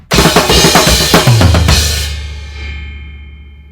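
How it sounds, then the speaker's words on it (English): A fast, busy drum fill rolls across the kit with crashing cymbals and low tom hits, loud and close, then decays into a long ringing wash. "And then to end it off, it's the crazy fill that sounds like this."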